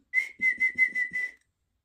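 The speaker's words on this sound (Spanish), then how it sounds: "Y si quiere algo, que silbe." A person whistles a short run of about six clear, steady notes in a quick rhythm, close and fairly loud, with nothing else around them.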